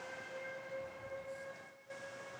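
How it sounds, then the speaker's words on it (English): An air raid siren sounds through the in-house system of a hockey arena, a steady sustained wail with strong even tones, fairly faint and unbroken apart from one brief dip near the end. "What's going on? An air raid siren here?"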